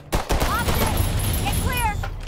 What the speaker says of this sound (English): You're right in front of the gun.